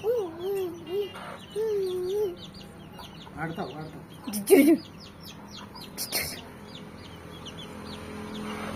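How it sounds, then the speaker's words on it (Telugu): Chickens cluck nearby while chicks cheep in quick high peeps, with a voice speaking briefly in between. "వీళ్ళతో పాటు ఈ కోడి పిల్లలు మళ్ళా"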